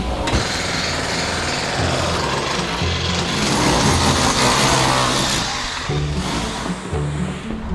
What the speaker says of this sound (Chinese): 我楼上又开始装修了。